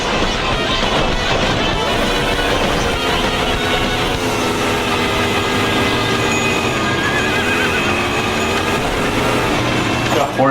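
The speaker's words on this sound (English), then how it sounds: "The horse noise is wild." A horse neighs loudly and continuously in the Need for Speed 2 racing game, with a long whinnying call running over engine noise from an F1 car.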